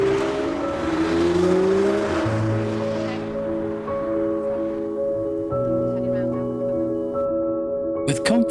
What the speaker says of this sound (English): when you're out on an open road, that V8 engine will certainly show its worth.